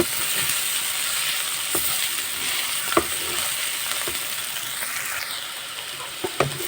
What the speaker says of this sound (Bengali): বন্ধুরা দেখতেই পাচ্ছেন আমার এই ভর্তার ভাজিটা হয়ে আসছে লাল লাল কালার হয়ে আসছে